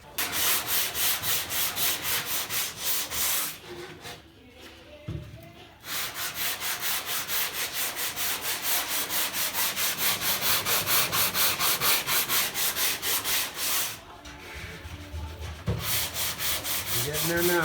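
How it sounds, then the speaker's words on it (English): Body filler on an El Camino is block sanded with 80-grit sandpaper in rapid, steady back-and-forth strokes that form a loud, continuous rasping rhythm, broken by two short pauses. "He's still sanding."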